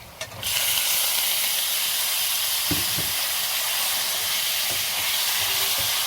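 Loud, steady hiss of duck meat frying in a pan, starting after a brief clatter and continuing evenly with a few faint knocks underneath.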